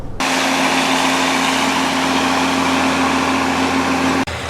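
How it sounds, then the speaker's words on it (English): Tractor engine running steadily out in a field during food plot work, a loud, continuous droning hum held close by that cuts off abruptly near the end. "We were working both tractors at the same time."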